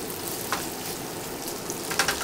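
Potatoes for a breakfast burrito fry in a pan with a soft, steady sizzle and a few light stirring scrapes, heard alone at moderate volume.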